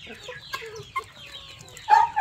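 Chickens on a small farm in Minas Gerais, Brazil, including bantam (garnisé) birds, give short clucks and calls at moderate distance, with a louder burst near the end over faint background noise.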